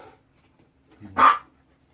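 A single close, loud bark from a household dog cuts through near-silence at home in the evening, preceded by a faint low whine.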